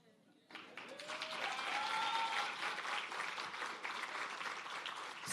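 An audience at a trade export academy launch bursts into applause, a dense, steady wash of clapping that swells in after a quiet start and holds for several seconds, with a few voices calling out within it.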